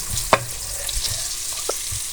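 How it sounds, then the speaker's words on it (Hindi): Onions frying in oil for a capsicum and potato sabzi, a steady low sizzle with a sharp clack near the start and a few soft knocks, heard close up with no talking. "प्याज मैंने ऑयल के अंदर फ्राई करने के लिए रख दिया।"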